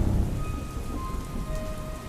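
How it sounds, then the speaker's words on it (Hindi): Heavy rain pours steadily in a dense, loud hiss with a low thunder rumble underneath, continuous and close, with no voices. "तेज बारिश के कारण स्टेशन लगभग सुनसान पड़ा था।"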